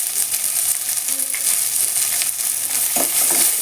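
Onions and chopped ginger frying in a pan at a roadside cooking stall, a steady dense sizzle with scraping stir strokes throughout.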